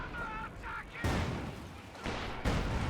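An incoming artillery barrage in a World War II real-time strategy match, with heavy booming shell impacts landing in bursts over a steady battlefield rumble.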